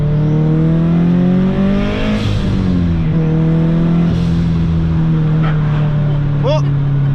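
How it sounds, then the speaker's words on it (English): A turbocharged car revs with a steady engine drone and releases a brief high whistling blow-off valve chirp near the end, as people talk over it. "Oh, that's the little blow off valve that time."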